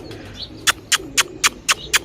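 A desi domestic pigeon calls near water, with soft cooing and chirps, then a run of six sharp, evenly spaced bright clicks or flaps over a low background murmur.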